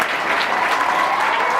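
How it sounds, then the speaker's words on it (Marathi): Students and guests at a school founding-day celebration in Kurla, Mumbai burst into loud, close applause, a thick wash of clapping lasting under two seconds. "पिंजरकर मॅडम पण त्यांच्याकडून जोरात टाळ्या वाजवा."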